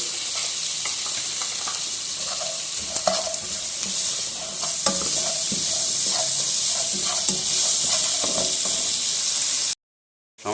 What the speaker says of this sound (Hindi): 1 मिनट के लिए इसको करेंगे हम सौते।